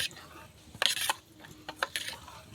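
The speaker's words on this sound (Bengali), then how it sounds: "দুধটাকে একটু ভালো করে গুলিয়ে নেব" Powdered milk and water are stirred in a bowl: a spoon scrapes and clinks against the sides in quiet, irregular strokes, heard close with no talking.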